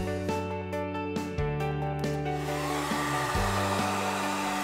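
A heat gun blows hot air over vinyl wrap pressed into a deep channel on a vehicle part, a loud, steady whirring hum whose pitch shifts slightly as it runs continuously throughout.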